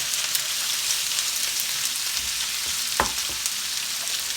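Potatoes fry steadily in a pan, giving a continuous bright sizzle throughout with a couple of faint clicks and taps near the middle.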